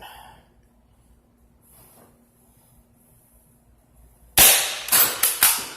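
A Nerf Rival Knockout XX-100 blaster fired flat after a quiet pause, giving a sudden sharp crack followed by two more quick pneumatic pops and hisses in rapid succession, close and loud.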